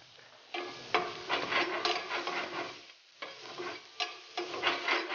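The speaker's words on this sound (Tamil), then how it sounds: "மசாலாலே வதக்கிக்கணும்." Cauliflower sautéing in a masala in a pan, with a stirring, scraping rhythm over a soft sizzle, close and fairly loud in repeated bursts with brief pauses between.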